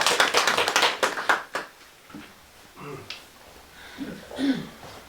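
Applause at a Korean literary talk concert greets a poet about to recite, a quick burst of rapid clapping for about a second and a half that fades into scattered claps, then a voice speaks.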